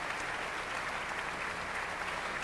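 At the Philadelphia Orchestra's centennial gala concert, a large hall audience applauds enthusiastically, a steady, dense and distant-sounding roar of clapping with no break.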